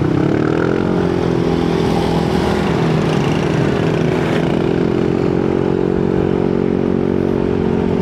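A Yamaha NMAX scooter fitted with a VMAX Racing Onyx muffler, running in S-mode: a loud, steady, throaty exhaust drone held close to the microphone, with a slight rise in pitch early on and no talking.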